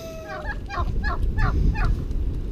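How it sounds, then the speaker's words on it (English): Turkeys gobble in a muddy poultry yard, giving a run of about six rapid, warbling calls close by over a noisy outdoor background. "the turkeys"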